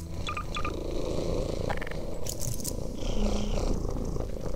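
A therapy cat purring close by in a steady low rumble under ongoing background noise, with a few faint higher clicks and chirps.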